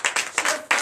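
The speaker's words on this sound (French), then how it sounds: "Donnez de vives acclamations à l'Éternel Dieu" Church congregation clapping and cheering during a Sunday service in Comè, Benin, in a short burst of several loud claps with bright broadband energy, close and reverberant.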